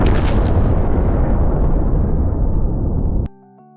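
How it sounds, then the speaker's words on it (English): A massive magical explosion in an anime roars as a sustained loud blast, dense and rumbling for about three seconds before cutting off abruptly into soft music. "cast explosion magic again"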